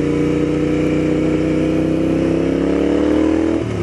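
Royal Enfield Interceptor 650 motorcycle riding at low speed, its mid-pitched engine note steady and loud up close, easing off and dropping near the end.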